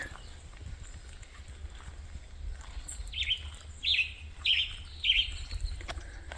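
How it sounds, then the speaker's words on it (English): A western tanager sings nearby on a hike, giving four short, bright, burry phrases spaced about a second apart over low outdoor background noise. "that one singing that I'm very close to right now, that's a western tanager."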